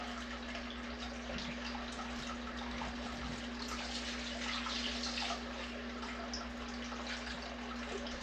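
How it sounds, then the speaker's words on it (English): Water poured steadily onto aquarium plants, a continuous soft splashing and trickling that stays even throughout, with a faint low hum beneath and no speech. "Water my plants."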